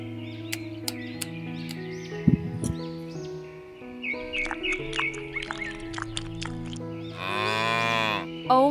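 A calf on a dairy farm gives one long, drawn-out moo late in the clip, loud and close. Before it come scattered clicks, short chirping cries and light pattering sounds.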